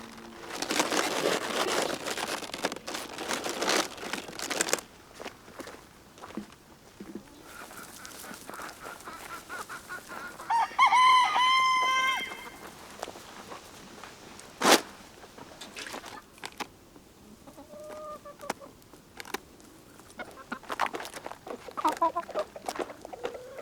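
Hens cluck and a rooster crows among rustling and scattered knocks, with a louder drawn-out crow in the middle and softer clucks later.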